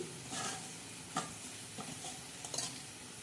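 Soft sizzling and frying as onion, peanut and green chilli curry is added to a hot pan, with a few stirring scrapes and clinks, fairly quiet and steady.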